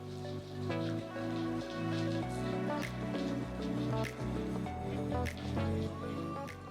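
Dry red chillies and urad dal fry in hot oil, giving a steady close sizzle with bubbling and crackling throughout, loud and unbroken.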